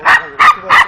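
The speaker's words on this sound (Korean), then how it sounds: "갑자기 강아지가 짖고 달려들었잖아" A puppy named Dubu barks three times in quick succession, sharp and close, evenly spaced with short gaps.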